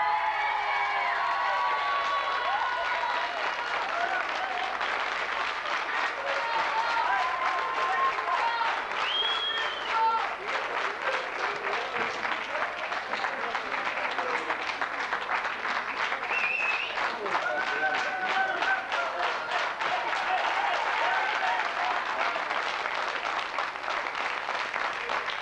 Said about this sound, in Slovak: Naozaj dnes ste si zaslúžili všetci ten potlesk